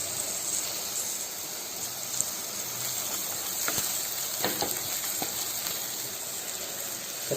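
Onions frying with ginger garlic paste in a pan for vegetable fried rice give a constant, close, bright hiss that holds steady throughout with a few faint crackles and no talking.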